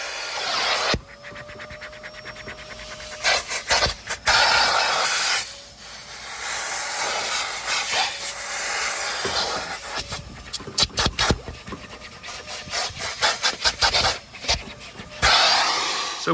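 A car seat base gets scrubbed with a brush, giving bursts of rough, rapid scratching strokes at close range, separated by brief pauses, with a steady hiss underneath throughout.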